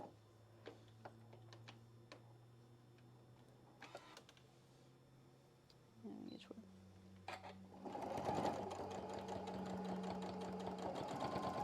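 A sewing machine stitches an apron seam, first with scattered ticks and short bursts under a low hum, then running into a fast, continuous mechanical chatter near the end; a voice talks during the clip.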